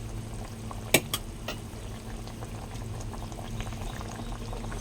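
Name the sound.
fish curry boiling in a pot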